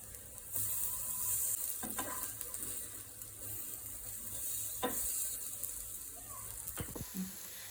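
Masala besan toast sizzles steadily in a pan, a soft continuous hiss with a few quiet clinks and scrapes as a slice is flipped.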